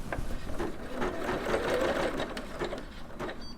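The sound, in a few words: Singer Legacy SE300 embroidery machine stitching a design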